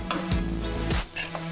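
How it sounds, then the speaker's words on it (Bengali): Rice frying in a pan for Bengali sweet pulao gives a steady close sizzle with brief scraping stir sounds, loud and continuous without talk. "কখন ভাজাটা হয়ে যাচ্ছে কী করে বুঝবেন, দেখবেন চালগুলো একটু সাদা সাদা রঙ হয়ে আসছে"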